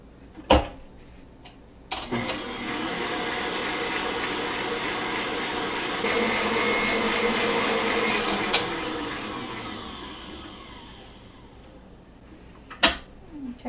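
An electric hand mixer whirs steadily through a bowl of cream cheese and milk for a no-bake lemon refrigerator pie, running continuously for about ten seconds between a few sharp knocks and clicks.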